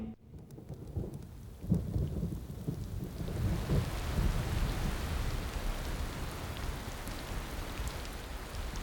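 A thunderstorm over the Serengeti plains, with low rumbling thunder building and steady rain falling on the ground. It grows from quiet to a sustained, moderately loud wash with no voices.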